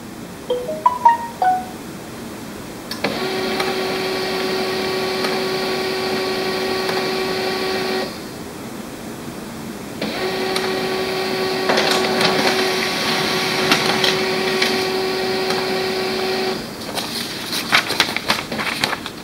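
HP LaserJet M233 laser printer runs a print job: a steady mechanical whirring hum with a tonal whine starts, pauses briefly, then resumes with added clicks and rustling paper feed, loud and close with no talk.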